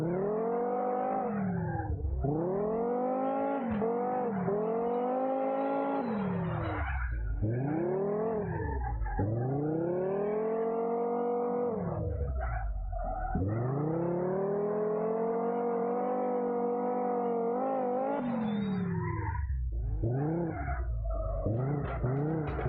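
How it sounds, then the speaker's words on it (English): A car power-slides and drifts in the CarX Drift Racing Online video game, its engine revving up and down in long sweeping waves with steady tire squeal throughout, loud and continuous, with no talk. "I'm just power sliding and then gradually hitting the acceleration and continue the drift"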